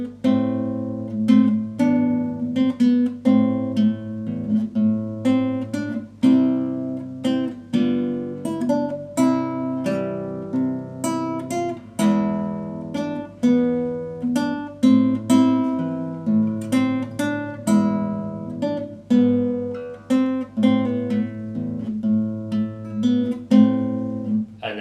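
Nylon-string classical guitar plays the opening section of Calatayud's Cancion de Cuna, a gentle lullaby with steadily plucked notes and chords ringing in an even rhythm, close and clear with no talking.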